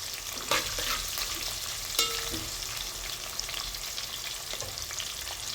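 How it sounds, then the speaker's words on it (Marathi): Cumin seeds and chopped onion frying in oil for green peas pulao, a dense continuous sizzle up close with a couple of stirring knocks, no talking. "जिरे आणि कांदा टाकून घेतला आहे तेलामध्ये"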